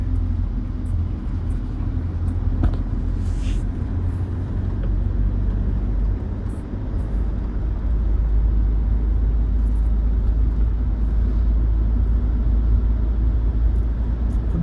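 A six-year-old car drives along a road, giving a steady, loud engine and tyre rumble from inside the cabin that holds an even drone throughout, with no talking.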